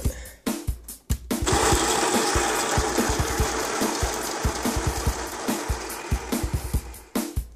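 A Baratza Encore burr grinder grinds about 30 grams of coffee beans for French press coffee. A steady, loud, close whirring drone runs for several seconds after a few clicks and taps, then stops abruptly.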